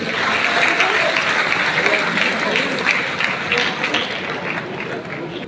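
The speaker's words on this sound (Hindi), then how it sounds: "बिल्कुल ताली आपकी ओर से।" A crowd applauds at a sports award ceremony held by a state Olympic association, producing loud, dense clapping that runs steadily for several seconds and thins slightly toward the end.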